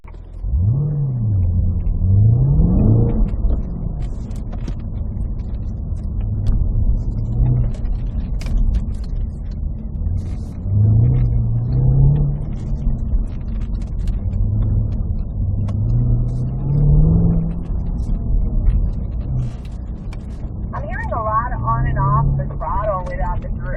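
An autocross car accelerates and revs through repeated rising engine pulls and shifts, a loud rumbling run with gear changes at an autocross practice event. A voice speaks over the engine for much of the time.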